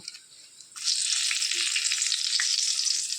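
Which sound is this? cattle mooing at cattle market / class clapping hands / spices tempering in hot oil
spices tempering in hot oil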